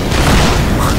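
A single loud, booming explosion in the video game Lara Croft and the Temple of Osiris fills the whole moment, dense and heavy with a rumbling low end.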